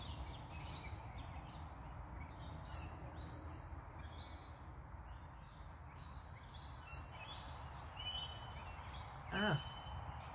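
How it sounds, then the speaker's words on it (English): An Australian king parrot gives thin, high whistled calls in open bush, faint and distant, scattered among other soft bird chirps, with one sharper sweeping note near the end. "do you hear that high-pitched whistle? That's the King Parrot."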